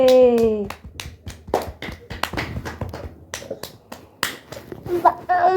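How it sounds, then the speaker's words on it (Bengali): Several sharp hand claps ring out in quick irregular succession alongside a child's and adult's speech in a home setting, with a sung or chanted voice at the start. "মা হাততালি দিচ্ছি"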